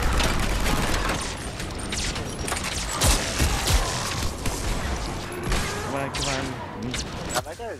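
Gunfire in a Mass Effect 3 multiplayer gold match with the N7 Typhoon, rapid mechanical bursts over a busy game mix while players talk.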